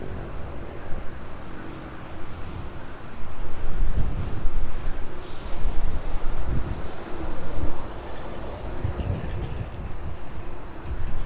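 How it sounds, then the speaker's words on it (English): Storm Amy winds roar across East Midlands airport in a continuous, heavy gusting rush that swells and eases over several seconds, buffeting the microphone with low rumble and no talking. "Speed picking back up down about 26 knots this morning. Really is blowing as well."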